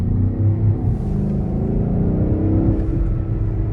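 A BMW XM engine rumbles and revs steadily at close range, its low growl rising and falling slightly throughout.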